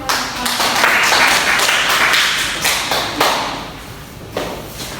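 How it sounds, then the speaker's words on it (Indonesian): A fifth-grade primary school class claps together in the classroom, a steady roomful of hand claps lasting several seconds with a few louder swells, loud and close. "Oke, kita beri tepuk tangan."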